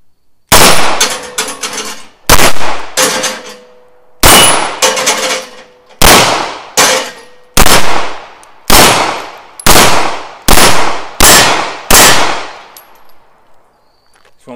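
Gunfire from a Llama 1911 9mm pistol at an outdoor range: about eleven loud, sharp shots in uneven groups, some paired or in quick runs, each ringing out with a decaying echo.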